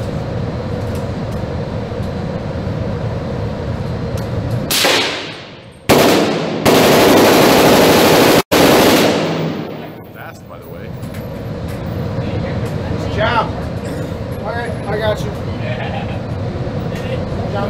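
Firearms discharged at a Texas shooting range, a burst of loud, blasting reports that swamps everything for a few seconds amid outdoor background noise, with people around before and after.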